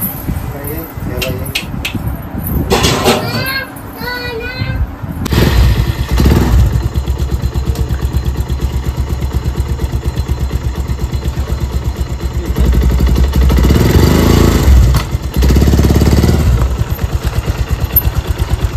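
Several motorcycles, about eight with riders carrying pillion passengers, rumble and rev loudly for most of the clip, with people talking over them at the start.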